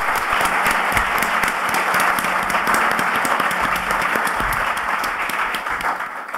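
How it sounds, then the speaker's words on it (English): A large audience at a CFA Society event applauds to welcome investor Howard Marks, dense continuous clapping that stays loud and even throughout before easing slightly at the end. "Please give a round of applause to welcome him."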